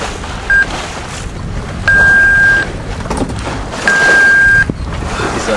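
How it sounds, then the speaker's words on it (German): Alarm on a sailboat at sea: three loud, steady electronic beeps, a short one then two long tones of under a second each, repeating over constant wind and water noise. "Dieser Alarm nervt auf jeden Fall tierisch."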